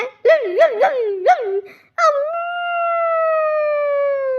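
A voice imitates a dog, giving a run of loud wavering yelps, then after a brief pause a long sustained howl, close and alone.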